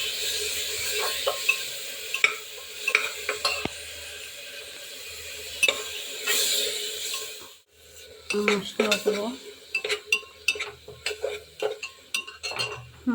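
Spices stirred in a frying pan with a spatula, clinks and scrapes of utensil on metal over a steady sizzle, close and fairly loud, with a brief pause midway before livelier clattering stirring resumes.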